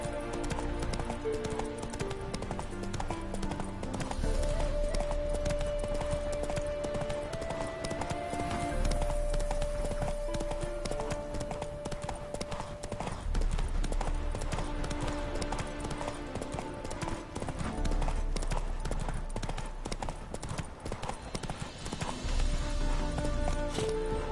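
Horse hooves galloping steadily in The Witcher III video game, a continuous fast clip-clop rhythm running throughout under game music and ambience.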